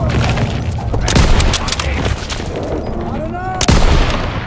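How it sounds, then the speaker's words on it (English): Artillery fire support on a Call of Duty WWII battlefield, loud booms and crackling gunfire layered over a dense war din, with a sharp blast near the end and faint voices in the mix. "Thanks for the fire support, Daniel!"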